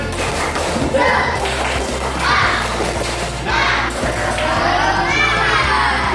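A crowd of primary school children in a classroom chants and claps together in a lively rhythmic cheer, loud and close, with shouting voices over steady beats.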